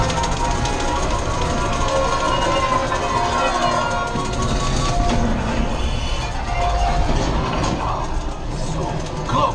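Steady rumbling train noise with clanking metal in a Star Wars Millennium Falcon smugglers run video game runs throughout, dense and loud, with voices faintly mixed in over the mechanical roar.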